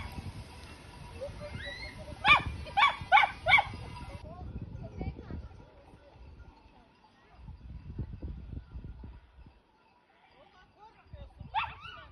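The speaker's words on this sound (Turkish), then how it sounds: "Çoban köpeği beni biraz tedirgin ettiği için fazla yaklaşmak istemedim." A shepherd dog barks several times in a quick series at a distance, with softer whimpering yips, amid quiet outdoor sounds at a highland plateau and occasional talk.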